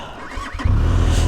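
A motorcycle on soft off-road ground gives a brief revving whine that bursts into a loud, close, throaty engine roar partway through, sustained to the end, with no voices.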